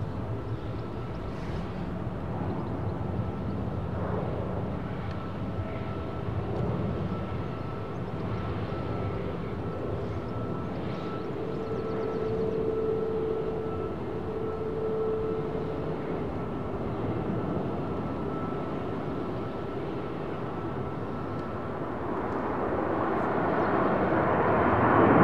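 A Boeing 767 cargo jet departing London Heathrow, heard as a sustained, rumbling roar that stays steady and distant before swelling louder toward the end, with no talking.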